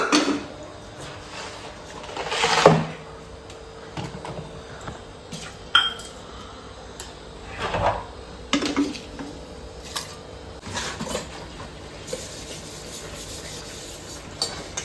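Metal pots and utensils scrubbed by hand at home: irregular bursts of rough rubbing and scraping with occasional clinks, close and fairly loud, with no talking.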